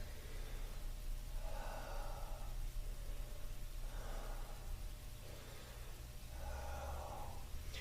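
Three slow, deep breaths taken while holding an exercise stretch, each a soft airy exhale rising at regular intervals over a steady low background hum, close and fairly faint.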